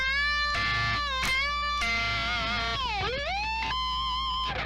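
Distorted electric guitar from a solo, sustained notes swooping with whammy bar dives and upward pulls, pitch sliding down and back up in wide sweeps, loud and continuous without speech.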